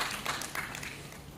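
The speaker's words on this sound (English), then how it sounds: "Let's give him a round of applause." Brief round of applause from an audience at a university research presentation competition, scattered claps sounding fairly faint and distant.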